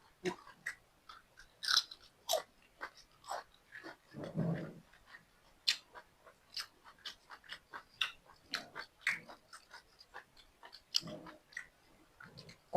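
Someone eats boiled soft-intestine offal soup with chili dip, giving repeated crisp, close crunching bites and wet chewing in an irregular rhythm over about thirteen seconds, with no speech.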